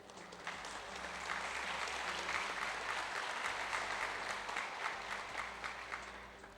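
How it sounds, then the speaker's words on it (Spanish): An audience at an electoral tribunal event in Oaxaca, Mexico applauds in a sustained, dense roll of clapping that swells slightly and holds steady, with a low hum in the background. "Les pedimos un fuerte aplauso, por favor."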